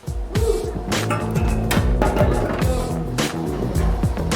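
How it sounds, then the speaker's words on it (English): An engine on a dyno revs hard through a Summit Turbo Muffler, giving a loud, raspy exhaust note that climbs and falls through several throttle bursts, heard alone. "can you hear it? It's the Summit Turbo Muffler."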